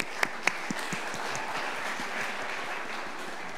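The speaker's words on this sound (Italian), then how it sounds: "Applauso per Antonio." An audience applauds an award winner at a tenth-anniversary celebration for a management engineering program, a steady even wash of many hands with a couple of sharp louder claps near the start, moderately distant and without talk.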